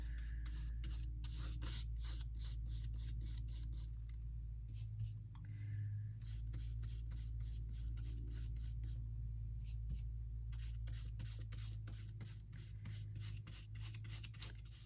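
Another coat of gray paint going on with a brush, heard as a steady run of short rhythmic scraping strokes with brief pauses, over a constant low background hum.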